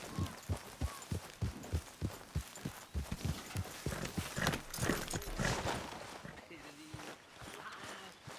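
Rhythmic hoof beats of a trotting horse in Red Dead Redemption 2, steady thuds at a moderate pace, with a voice talking over the later part.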